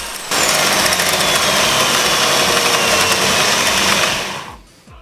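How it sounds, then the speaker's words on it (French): A machine tool drills, counterbores and taps welded-up screw holes in a motocross motorcycle engine casing that a chain had broken. Its steady, buzzing whine runs for about four seconds, then winds down and stops. "Perçage, lamage et taraudage des emplacements de vis qui ont été soudés"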